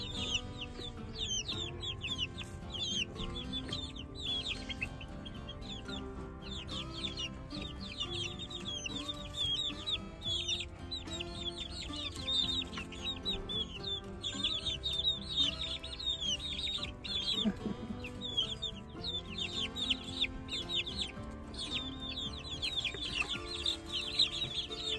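Barred Rock chickens cluck and murmur continuously inside a warm coop, many birds overlapping at close range with occasional sharper calls.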